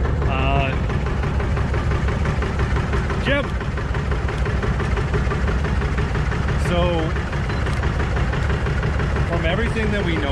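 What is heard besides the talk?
vintage tractor engine idling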